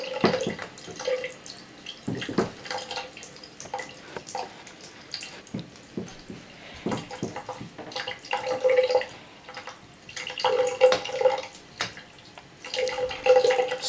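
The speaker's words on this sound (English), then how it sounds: "And here's hot water." Hot water runs and splashes unevenly from a tap onto a Sony Xperia Z2 phone, with intermittent gushes and drips, fairly close and moderately loud, no talking.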